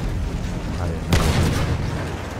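A grenade goes off in Battlefield 1 wartime gameplay, a single sharp blast about midway that leaves a rumbling tail over a constant low battlefield din.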